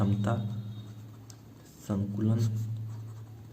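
Formula being written on a board, a faint scratching and tapping that runs under a man's continuous close speech.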